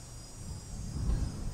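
Steady high insect song, like a cicada in a poplar grove on a summer evening, drones faintly and continuously throughout, with low rumbling background noise beneath it.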